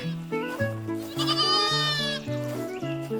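Several goats bleating in wavering, overlapping calls, one voice rising loud and long in the middle, continuous and close.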